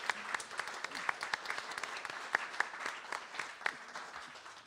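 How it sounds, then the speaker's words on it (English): A small audience at a songwriter night in Hermit Woods Winery applauds, scattered individual claps standing out in a fairly quiet, modest round, with a voice faintly present. "give another round of applause for Hermit Woods Winery, Bob Manley, everyone working tonight"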